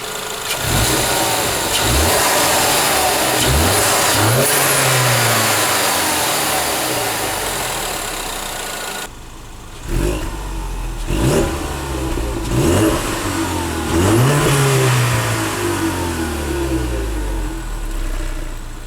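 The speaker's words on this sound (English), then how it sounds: "I'll give it a few revs from the front and from the back" A 2015 Ford Mustang EcoBoost idles, then revs sharply several times in bursts, close by at first from the front and then from the rear with a rougher exhaust tone.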